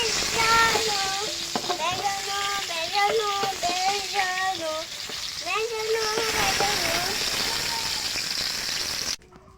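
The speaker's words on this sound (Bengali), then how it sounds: "পটলগুলো আমি দেখেন এইভাবে লাল লাল করে ভেজে নিয়েছি অনেক সময় ধরে।" Pointed gourd (potol) frying in oil in a kadai, a steady close sizzle with stirring, while a voice talks over it before the sound cuts off near the end.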